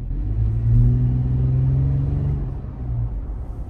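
A Toyota 4Runner V6 with a TRD exhaust revs up briefly, a low throaty exhaust rumble rising and holding before easing back to a steady idle, close by with no talking.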